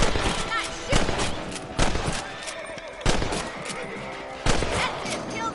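Repeated gunshots in Red Dead Redemption, fired at rabbits, cracking out in loud bursts about once a second over a game soundscape with horse whinnies, while a voice speaks between the shots.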